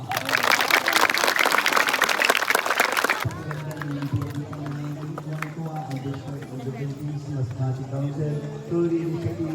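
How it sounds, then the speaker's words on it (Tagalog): Scout troop and audience at a school gathering break into a short burst of dense clapping, loud and close, which stops abruptly; a voice and a sustained tone carry on afterward in a quieter hall. "Palakpak."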